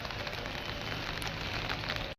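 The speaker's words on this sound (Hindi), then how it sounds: "देखना छाते पर कैसे बारिश की आवाज़ आएगी" Rain patters steadily on an open umbrella during the year's first winter rain, a dense, close hiss of drops lasting a couple of seconds and then stopping abruptly.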